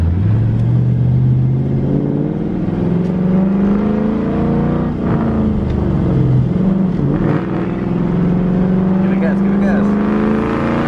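A new car's engine revs and accelerates steadily close by while a learner driver gives it gas, rising and falling in pitch over several seconds as people talk throughout.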